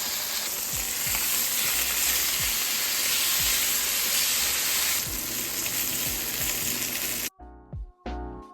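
Steak frying in a pan for dinner, a loud steady sizzle and crackle of fat close up for several seconds, then it cuts abruptly to quieter clinks near the end, no talking.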